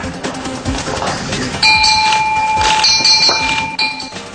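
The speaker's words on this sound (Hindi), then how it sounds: "पीएम नरेंद्र मोदी ने जापानी परंपरा के मुताबिक एक घंटी भी बजाई।" A bright, sustained metallic tone from a Japanese ceremonial bell rings out twice, its clear pitch hanging over a busy crowd murmur and clinking background at a public event.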